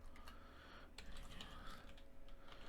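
Computer keyboard typing heard faintly, a quick scattered series of light key clicks with short pauses between bursts.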